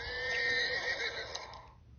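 A horse neigh plays as a sound effect from a phone app: a single loud, close whinny, bright and wavering, rising and then trailing off after about two seconds, with no speech.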